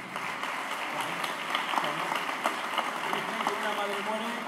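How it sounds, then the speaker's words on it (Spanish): Audience applause at an outdoor charity solidarity festival in Burlada, greeting a young singer, a steady dense wash of clapping with voices murmuring underneath. "así que pido un fuerte aplauso para él"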